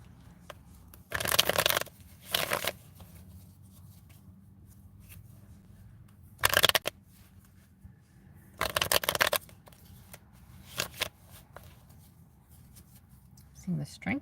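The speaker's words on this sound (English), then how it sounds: "I will go ahead and start shuffling" Tarot cards being shuffled by hand in several short riffling bursts, crisp and close, separated by quiet pauses with faint room sound between.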